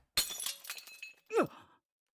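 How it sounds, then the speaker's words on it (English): Glass shatters in the Chaos;Child visual novel game, a sharp crash with scattered tinkling fragments, followed by a short low groan-like vocal sound. "I heard the sound of shattering glass and the impact stopped."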